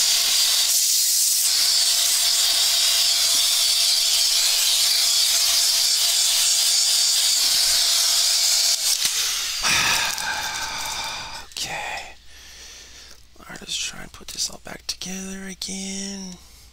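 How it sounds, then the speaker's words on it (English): A vacuum cleaner sucks up spilled epoxy during a laptop hinge repair, giving a loud, steady hissing roar for about nine seconds before shutting off, followed by quieter handling clatter and brief vocal sounds near the end. "Well, you know what? I'm gonna vacuum this up."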